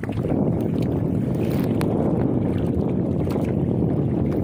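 An old boat with a broken-down engine is paddled along, heard as steady close water wash and boat noise mixed with blustery wind buffeting the microphone, with no voices.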